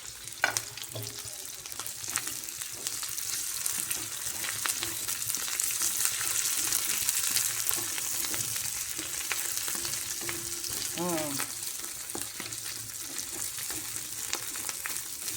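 Green chillies and potato sizzle steadily in a hot pan, a continuous broadband fry with occasional stirring clinks, close and moderately loud, no talking.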